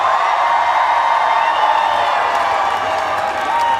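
A large crowd at Pride in London cheers and whoops loudly and steadily, a dense roar of many voices that lasts throughout.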